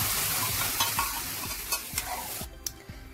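Boiled dal is tipped into vegetables frying in a pan, bringing a hissing sizzle with several soft scraping stirs and knocks, and the hiss cuts off sharply near the end.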